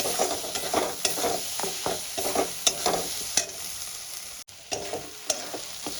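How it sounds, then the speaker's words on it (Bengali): Dhaba-style pav bhaji masala sautéed in a pan, with a steady soft sizzle and a spoon scraping and stirring in irregular strokes, close by, no voices. "এই পাওভাজি মশলাটা দিয়ে আমি ভালো করে কষাতে থাকবো।"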